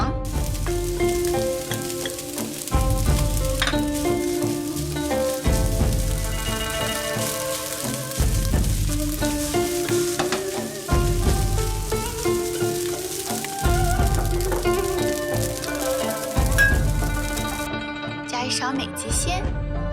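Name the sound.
stir-frying rice with lobster roe and egg yolk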